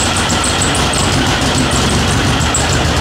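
Turbocharged VW Beetle engine idling after startup, a steady, loud mechanical rumble with an even, continuous drone and a faint high whine on top, heard close with no talking.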